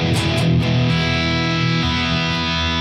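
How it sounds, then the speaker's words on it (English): Distorted electric guitar drenched in reverb, played live during a song: loud sustained chords and notes ringing out with a long, thick wash of decay, played alone without speech. "It's just a reverb in this song"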